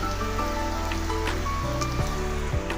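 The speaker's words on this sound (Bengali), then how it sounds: "বৃষ্টিটা আবার বেশি আসতেছে" Heavy rain pours steadily on a dark, stormy day, a continuous wash of falling water over which a tonal musical drone plays.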